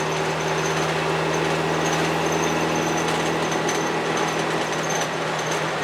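Inside a 1970 VW bus on the move, a constant loud engine drone fills the cabin, mixed with dense rattling and buzzing from loose parts and door seals, with no talking.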